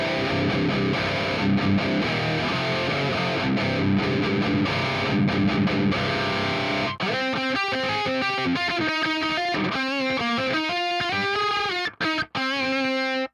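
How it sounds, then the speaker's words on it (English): An electric guitar plays a lead line through a Peavey 6505+ amp with a Fortin Tempest pedal, a loud, heavily distorted and compressed tone moving from dense chugging to sustained singing notes, played alone without talk. "So for the lead tone at 12 o'clock, it sounds like this."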